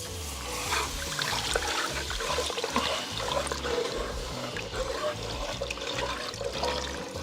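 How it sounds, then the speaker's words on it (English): Broth is poured into a pot for zuppa toscana, a steady gurgling, splashing stream of liquid that runs continuously and close by for several seconds, without voices. "Now I'm finna grab my broth and we finna put this in the inside right now."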